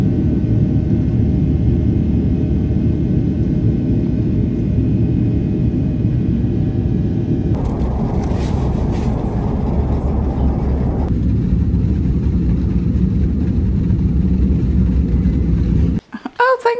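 A steady, loud cabin roar fills the interior of an airliner in flight, a broad low rumble that holds constant and shifts in tone partway through before ending abruptly.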